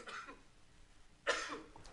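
A man coughs once, sharply and close, around the middle of a quiet stretch, with a short softer throat sound just before it and a faint tail after.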